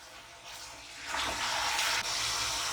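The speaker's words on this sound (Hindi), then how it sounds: "प्याज में काफ़ी पानी होता है, लेकिन मटन है थोड़ा गलने में टाइम लगता है, तो इसमें मैं थोड़ा सा पानी ऐड करूँगी" Water pours into a pot of mutton stew with onions, a steady broad splashing stream that swells after the first second and runs on close and fairly loud.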